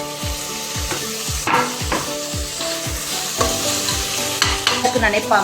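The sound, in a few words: tomato and onion sautéing and stirred in a pan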